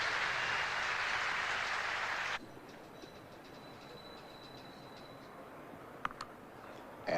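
Spectators at a 1978 Test cricket match in Perth applaud from the stands in a brief, distant burst of about two seconds, then the ground falls quiet.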